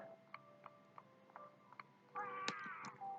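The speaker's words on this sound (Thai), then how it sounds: "เสียงแมวเกมนี้มีแมวด้วยงั้นหรือ" A cat in the Mini World video game lets out a quiet meow near the end. A faint, regular ticking runs beneath it, and the sound stays soft and close.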